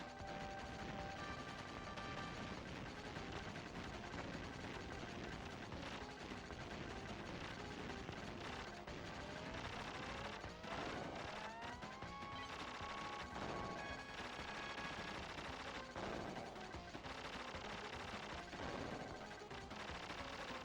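Spread gun firing in Contra: Hard Corps, dense rapid bursts of game shots mixed with explosions, electronic tones and busy game effects, continuous and fairly faint.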